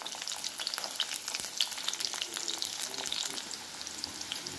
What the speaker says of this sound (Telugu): ఇప్పుడు తరిగి పెట్టుకున్న పచ్చిమిర్చి అండ్ ఆనియన్స్.